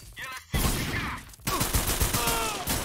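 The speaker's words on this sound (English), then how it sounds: "Y'all shooting outside?" Video-game gunfire from a G-Unit shooter, a dense fusillade of rapid shots that cuts out briefly before resuming in a second loud burst.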